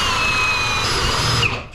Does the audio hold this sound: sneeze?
no